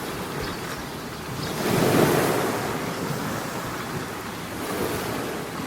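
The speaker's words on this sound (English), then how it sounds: "But first I'll jump in the ocean." Ocean surf breaking steadily, a broad close roar of waves that swells in the middle and again near the end, with some wind across the microphone and no talking.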